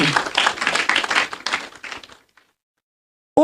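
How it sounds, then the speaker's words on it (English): Applause from the audience at the official opening ceremony of the Gros Islet Police Divisional Headquarters: dense, loud clapping for about two seconds that thins out and stops, leaving near silence. "God deserves our loudest applause."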